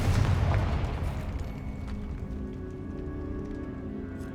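A Confringo explosion spell in Hogwarts Legacy lands as a low, rumbling blast at the start, then fades into a long, quiet, decaying roar.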